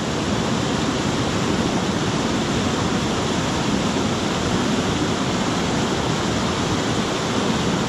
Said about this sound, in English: it's a nice waterfall, especially in full spate after rains